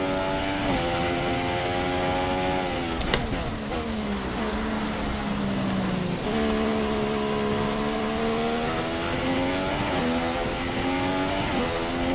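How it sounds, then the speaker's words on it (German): A continuous hiss of rain blankets a droning Formula 1 car engine in the F1 2016 video game, Australian Grand Prix qualifying; pitch rises and falls with gear changes, steady throughout without talking. "So wir ja im Regen."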